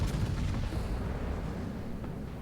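Secondary battery guns of the battleship Montana firing in World of Warships, a dense rumbling barrage of overlapping booms, loud at first and fading slightly over a couple of seconds.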